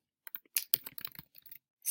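Quick, irregular clicks of typing on a computer keyboard, close and quiet, with brief gaps between bursts of keystrokes.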